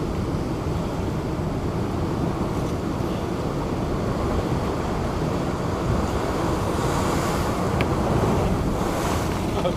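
Big waves crashing and surging onto a North Norfolk beach in winter, a loud, continuous roar of surf with heavy wind buffeting the microphone and no talking.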